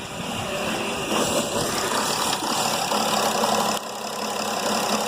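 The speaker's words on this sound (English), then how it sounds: "I'm going to go ahead and start the car here and show you what I'm talking about." A Mercedes E320 CDI diesel engine idles roughly with its EGR valve unplugged while the car sits in limp mode, giving a steady, fairly loud uneven rumble close to the microphone, with one slight drop near the end.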